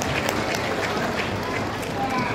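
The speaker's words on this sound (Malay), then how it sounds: "orang hebatnya, beri tepukan kepada beliau" An audience at a Malaysian UMNO gathering gives a speaker dense, continuous applause. The clapping stays even and fairly loud across the whole moment.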